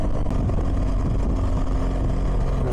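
A motorcycle on a road in Bosnia moves out to overtake a truck, its engine roaring loud and constant under heavy wind rush for a few seconds, with no speech.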